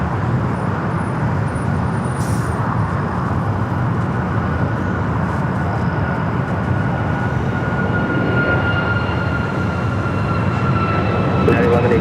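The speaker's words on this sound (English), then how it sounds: "Next takeoff is a flight to Denver. United Flight 1912, a 737 MAX 9." A United 737 MAX 9 taking off at LAX on a flight to Denver makes a continuous, loud jet roar that fills the whole stretch, broad and steady, with faint talk mixed in underneath.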